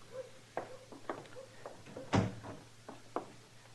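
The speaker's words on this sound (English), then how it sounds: "Close the door, Chester." Inside an old Western radio drama set, footsteps shuffle, followed by a single solid door closing near the middle, with some faint knocks around it and no talking.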